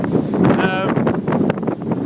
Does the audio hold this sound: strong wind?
yes